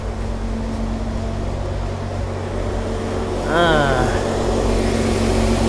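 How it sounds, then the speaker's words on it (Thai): A Mitsubishi L300 van's swapped-in Toyota 3S-FE engine idles steadily while warming up with a constant hum, and partway through the revs rise briefly before settling back, with faint sounds around it. "ตอนนี้เครื่องกำลังวอร์มอยู่นะครับ เลยรู้สึกว่าเครื่อ งมันเร่งนิดนึง"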